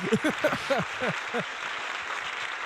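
Studio audience applause on a French talk show about a UFC event, a steady wash of clapping running under a voice at the start, then continuing alone at moderate level.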